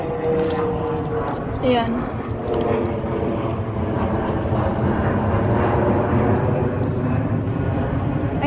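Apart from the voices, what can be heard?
airplane flying overhead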